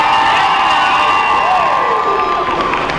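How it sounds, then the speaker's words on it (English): Roller derby crowd cheering and whooping for the Emerald City blockers against Sin City, a loud, steady wall of shouts and high-pitched cheers sustained throughout. "If you're in the crowd, let's hear it for our Emerald City blockers."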